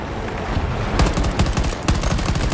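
Rapid automatic gunfire from the Battlefield 2042 shooter game, dense bursts of bullets cracking close and loud, with a sharper barrage starting partway through and continuing in repeated volleys to the end.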